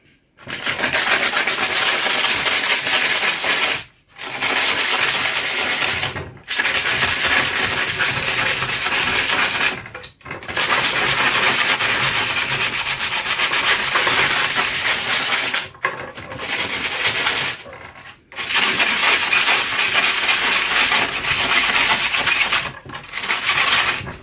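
Sandpaper rubbed across a polished stainless-steel overlay for a VW Caddy sliding-door roller: loud, steady abrasive scraping in several long strokes, each a few seconds long and separated by short pauses.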